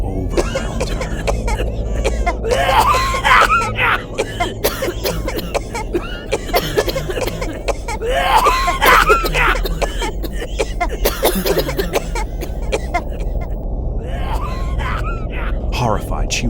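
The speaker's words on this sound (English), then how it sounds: "she noticed the woman by the window seat, coughing." A woman coughs in a few harsh bursts, spaced apart, over a low rumbling airplane cabin drone with faint murmuring voices.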